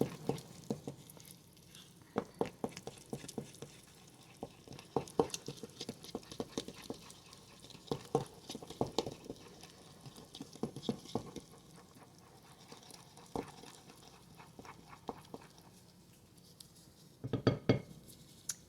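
Tres leches cake batter with pineapple flavor is stirred in a bowl: faint, irregular clinks and taps of a utensil against the bowl, quiet and close, with a brief busier cluster near the end.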